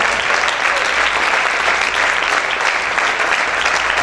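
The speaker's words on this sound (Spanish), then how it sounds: "dale ese fuerte aplauso al Señor" A church congregation at a fasting service applauds steadily and loudly, a dense, unbroken wash of clapping that fills the whole moment with no pauses.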